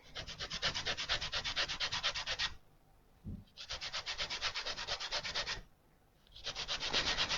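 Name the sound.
grating lemon zest onto flour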